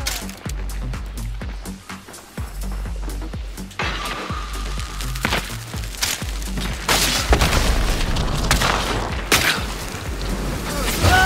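Explosive ammunition gunfire fills a Hunt: Showdown match with dense, loud booms and rattling shots, shifting to harsher blasts and clatter midway through, with no voices.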